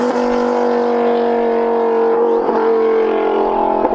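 A twin-turbo Lamborghini revs and accelerates hard, its loud, steady engine note rising in pitch with a brief gear-change dip near the end, heard close from inside the car with no talking.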